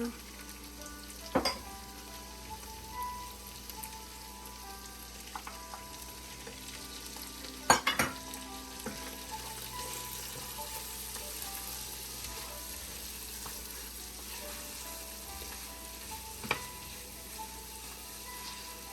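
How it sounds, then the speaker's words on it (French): Leeks, peppers and chives fry in a pan with smoked fish in a steady, fairly quiet sizzle, broken now and then by a sharp clink or scrape of a utensil against the pan. "je vais rajouter mes poireaux, poivrons et ciboulettes"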